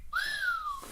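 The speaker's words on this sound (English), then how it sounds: "Okay, Red, you get a whistle today." A single sharp whistle, a clear high tone that rises briefly and then slowly glides downward, heard close and alone.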